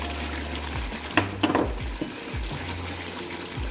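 Garlic sizzles in hot oil with meat for chuijal while a utensil stirs it, giving a steady close frying hiss broken by a few sharp scraping clinks.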